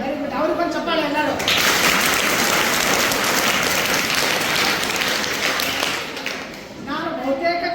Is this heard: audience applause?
yes